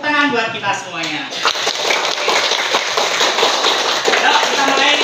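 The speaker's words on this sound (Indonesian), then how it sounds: "Tepuk tangan buat kita semuanya." A primary school class claps their hands in a quick, dense burst of applause following a teacher's voice, the clapping continuing steadily and close for several seconds.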